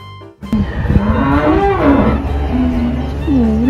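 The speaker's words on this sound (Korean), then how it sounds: "저기에 젖소들이 있어요" Dairy cows on a farm moo loudly and close by in long, low, drawn-out calls. Several moos overlap and continue through the clip over faint outdoor background noise.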